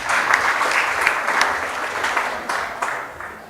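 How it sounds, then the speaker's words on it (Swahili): An audience claps for an elder at a Turkana West parliamentary candidates' debate, a sustained, moderately loud burst of many hands with a few sharper individual claps standing out and fading toward the end. "Simpigie hata mzee makofi."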